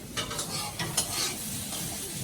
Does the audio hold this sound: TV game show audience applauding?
no